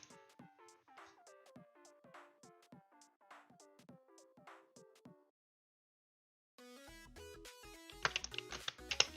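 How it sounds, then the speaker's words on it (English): Computer keyboard typing during a casual livestream: rhythmic bursts of quick clacking keystrokes, close and moderately loud, then a pause before denser, busier sound with some sharp peaks near the end. "Sorry if you can hear me typing"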